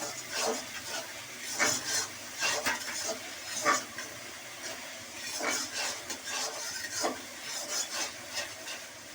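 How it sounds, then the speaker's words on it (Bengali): Tomato masala with chili powder being stirred in a pan for paneer butter masala: irregular scraping and rubbing strokes of a spoon against the pan over a low, soft sizzle, close and moderately loud, no voices. "একটু হালকা করে কষে নিই, কারণ কি টমেটো দিয়েছি না"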